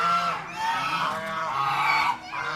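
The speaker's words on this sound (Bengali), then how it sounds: "এই যে হাঁস, এগুলো অনেকগুলো হাঁস আছে" A flock of geese at a temple pond at Satsang Vihar in Jaleswar, Odisha, giving loud, overlapping nasal honks in quick succession, close by and without speech.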